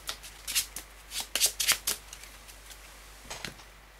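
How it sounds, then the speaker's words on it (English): A deck of playing cards from a tabletop game gets shuffled in a few quick riffling bursts followed by a softer flutter near the end, close and fairly quiet with no voices. "we'll have to shuffle up the discards to draw that"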